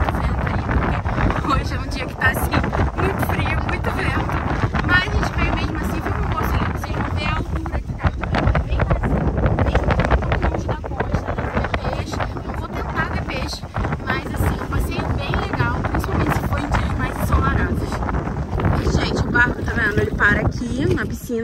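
Strong, cold wind buffets the microphone on a beach, a steady roaring rush with gusty bursts throughout, heavy and close, while people talk underneath.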